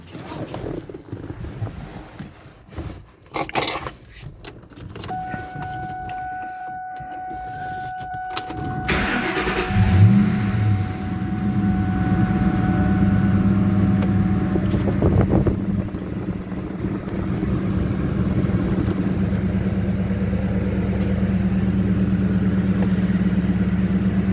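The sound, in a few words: Mustang GT engine running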